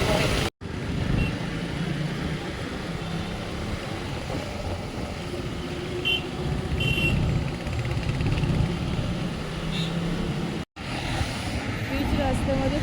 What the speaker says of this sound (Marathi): एवढं सकाळी सकाळी निघून पण मुंबईमध्ये ट्रॅफिक भेटतेच